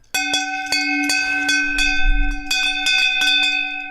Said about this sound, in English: it's like a gong, such a rich sound